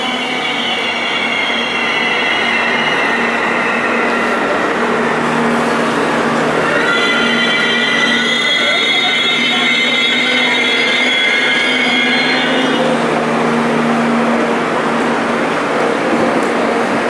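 A double-decker train pulls into a station in Israel with a loud, continuous rumble and high, drawn-out wheel squeals that rise and fade over the passage, heard close by.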